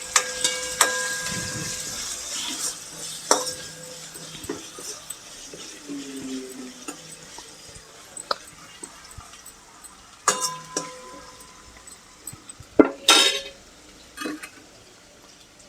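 A spoon stirs turmeric into a bitter gourd curry in a pan, making intermittent clinks and scrapes against the metal over a soft, low sizzle, with a few louder knocks spaced irregularly.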